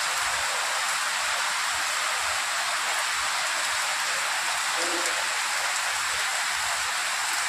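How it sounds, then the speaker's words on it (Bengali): Heavy rain pours steadily and loudly on an Eid day, a dense unbroken hiss of water that fills the whole stretch with no talk over it. "অনেক বৃষ্টি পড়ছে, কাদা হয়ে আছে।"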